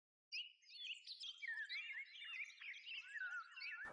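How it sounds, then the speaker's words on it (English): A little wattlebird sings alone in a garden, a faint, continuous string of squeaky, warbling chirps and tweets after a brief silence. "Now you can see a little wattlebird"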